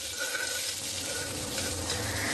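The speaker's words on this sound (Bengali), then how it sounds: "পেঁয়াজটাকে দিয়েও আমি ভাজবো" Chopped onions fry in a pan, giving a steady, soft sizzle with faint crackling and occasional light stirring, heard up close and alone without any talk.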